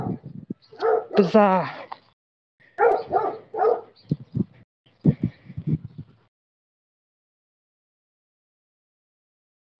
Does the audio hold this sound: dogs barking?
yes